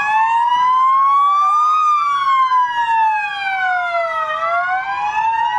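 Police patrol car sirens wail loudly and close in a funeral caravan honoring a slain ministerial police officer, several overlapping sirens rising and falling continuously together.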